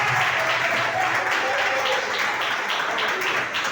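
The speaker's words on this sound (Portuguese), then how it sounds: "Vamos aplaudir mais forte." A church congregation at a Friday evening service bursts into sustained loud applause, many hands clapping together in a dense, steady wash with rhythmic pulses running through it.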